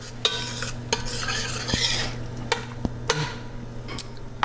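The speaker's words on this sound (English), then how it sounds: "I'm going to now give this a stir." A spoon stirs soup with bay leaves and garlic in a pot for a few seconds, with repeated scraping and clinking against the metal sides over a low simmer.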